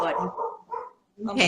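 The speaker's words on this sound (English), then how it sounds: "sorry about my dog." A pet dog barks in short bursts near the microphone, overlapping a person speaking indoors.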